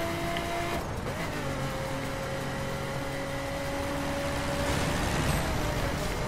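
A car engine in the racing game The Crew drones steadily with a constant road rumble and tonal engine hum, shifting pitch slightly as the car drives, with no talking.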